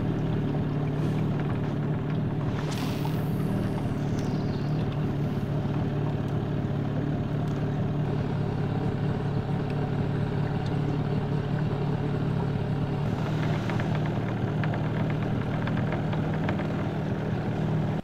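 A motorboat engine runs steadily at low trolling speed for fish pike, a constant droning hum with water wash, fairly close and without talk.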